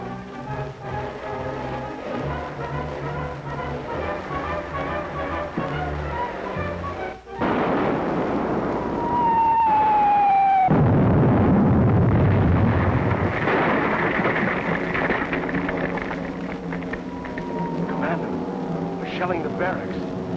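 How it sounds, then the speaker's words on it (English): Artillery shelling of barracks in a 1942 wartime drama, heard as heavy booming rumbles and blasts that swell loud midway, with whistling streaks overhead and music running throughout. "Shelling the barracks."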